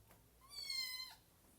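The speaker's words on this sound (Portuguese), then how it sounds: "se vocês ouviram um miado ao fundo, é a gata" A cat gives a single short meow far in the background, faint and drawn out for well under a second, with no voices around it.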